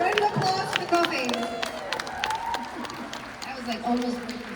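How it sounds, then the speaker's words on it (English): Audience applause and scattered cheering at a live stage show, clapping mixed with crowd voices and talk at moderate volume. "Round of applause for the coffee."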